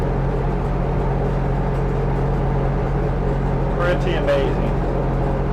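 A propeller aircraft engine throttled back to about 1300 rpm drones in a smooth, steady low hum, close and constant throughout, while someone speaks briefly over it.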